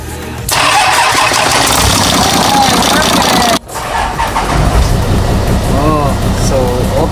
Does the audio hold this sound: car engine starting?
yes